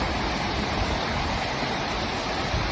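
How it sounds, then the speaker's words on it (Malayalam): Konithodu waterfall, running with little water after no rain, produces a loud, close, continuous broadband roar of falling and splashing water, steady throughout and with no voices. "ഇതാണ് കോണിത്തോട്ട് വെള്ളച്ചാട്ടം"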